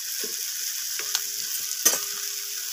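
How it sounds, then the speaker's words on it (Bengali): Spice masala with ginger paste being stir-fried for a fish curry, a steady bright sizzle with a few brief spatula scrapes close by. "আদা বাটাটা দিয়েও আমি আবারও কষিয়ে নেব"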